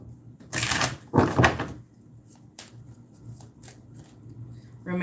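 A deck of tarot cards shuffled by hand, two quick papery riffle bursts close up followed by a few lighter taps and card sounds, with a faint voice-like trace in the background.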